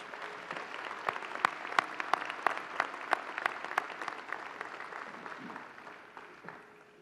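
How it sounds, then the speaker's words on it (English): A graduation commencement crowd applauds graduates' supporters, steady mid-distance clapping with a few sharp, close claps standing out, tapering off slightly toward the end. "give them a well-deserved round of applause"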